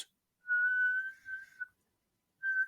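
A person whistles a steady high tone imitating a whistle on a guitar string, a long held note with slight wavering, then a pause and a brief second whistle.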